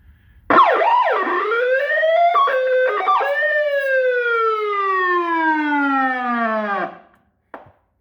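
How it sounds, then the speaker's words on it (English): A loud old mechanical siren from a Ford Police Interceptor winds up and wails, holding a long descending tone before cutting off, followed by a brief blip near the end. "I got an old school, probably the same year Interceptor siren as the rest of the car."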